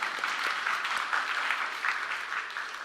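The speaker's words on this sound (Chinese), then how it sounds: "鼓掌就鼓掌，没关系" A church congregation claps steadily for several seconds, a dense, even spatter of many hands close to the microphone.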